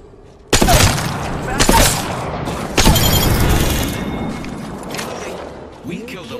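Gunfire and booming shots in the battle royale game Apex Legends, several sharp loud bursts over continuous game noise while a player talks excitedly throughout.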